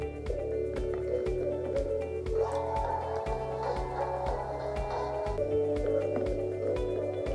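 Music from an Ikea Vappeby bluetooth speaker playing underwater, muffled and murky with a steady beat and tonal notes, no voices.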